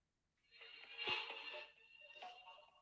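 Music plays from a phone speaker, starting after a brief silence and carrying on at moderate loudness with a thin, tinny tone, no talk over it.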